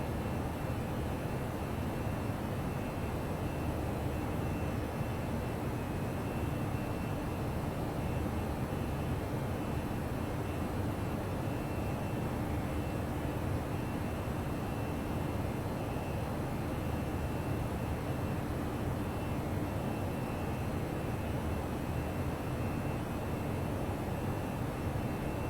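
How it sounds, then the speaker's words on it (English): ToLiss A319 jet taking off in X-Plane 11 from Phoenix runway 25 right, a steady broadband engine roar with rumbling low end that holds constant and loud throughout, with no talk over it. "Southwest 3943, Phoenix Tower, runway 25 right, cleared for takeoff"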